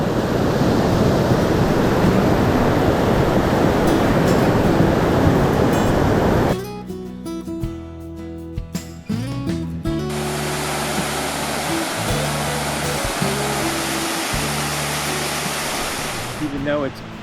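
A river rushes steadily along a forested mountain trail, a loud broadband roar of flowing water that drops away midway under wind-buffeted handling noise, then returns as a constant wash.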